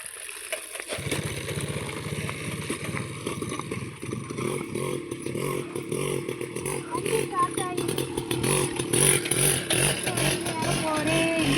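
A motorbike engine running after a push-start on a rural outing to gather grass for goats: a steady, rough, buzzing idle close by, rising slightly toward the end, with no clear talk over it.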